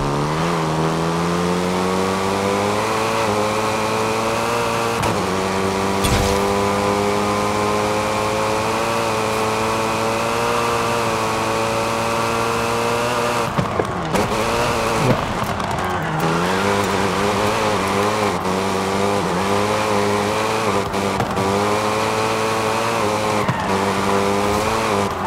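A Hyundai Elantra, front-wheel drive and tuned, drives in the racing game Forza Horizon 5, its engine droning steadily with rising and falling pitch through gear changes, continuous and close throughout.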